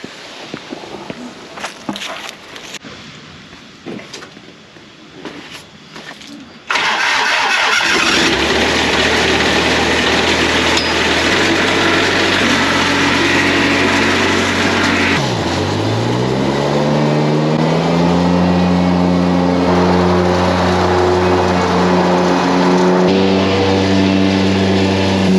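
A lawn mower on a homestead starts after a few quiet shuffling knocks, then its engine roars loudly and steadily close by, pitch rising and settling as it runs.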